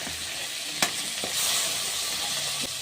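Lemon rice is stirred and mixed in a hot pan, making a continuous close sizzle broken by a few sharp spoon knocks against the pan, with no voices.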